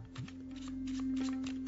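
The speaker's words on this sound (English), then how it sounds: "So when they shuffle the cards" A deck of playing cards being shuffled by hand for a magic trick, a short close riffle of rapid papery flutters with no talking.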